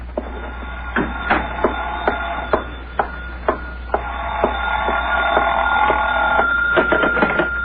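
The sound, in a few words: telephone ringing in a radio drama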